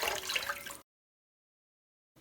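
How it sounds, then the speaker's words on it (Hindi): Water is poured into sugar in a cooking pot: a short, fairly loud rushing splash lasting under a second, then silence. "2 कप चीनी के अंदर हमने 5 कप पानी के ऐड कर लेने हैं।"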